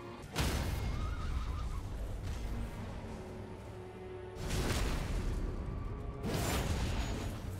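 A horse in Elden Ring neighs and whinnies in several loud bursts, each cry cutting in sharply over a rumbling backdrop of combat whooshes and impacts.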